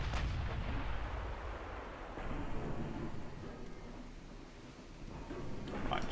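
Warship secondary guns firing in the naval game Ultimate Admiral Dreadnoughts, a rolling series of booming reports over a low rumbling battle bed, with sharper blasts near the start and end.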